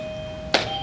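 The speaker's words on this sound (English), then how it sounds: "I didn't know we had a doorbell." A single quick electronic doorbell chime rings out sharply over a steady background hum.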